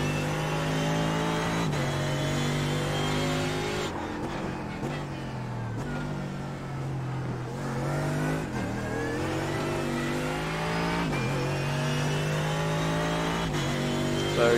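A Mercedes AMG GT3 race car's engine roars continuously around Tsukuba Circuit in iRacing, revving high with several quick dips for gear changes and braking before climbing again.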